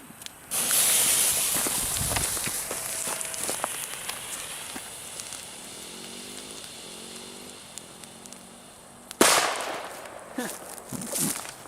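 A Killer firecracker on grass: a long sizzling fuse hiss runs for several seconds, then a sharp loud blast near the end followed by a few smaller pops, with faint outdoor background.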